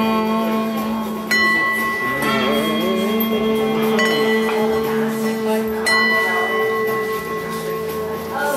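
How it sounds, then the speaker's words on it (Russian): A metal singing bowl in a small shop, struck and left ringing with a steady sustained tone and shimmering overtones, with a few light strikes and faint background activity nearby. "По-моему, нужно сначала ударить, а потом вот звук этот размазать."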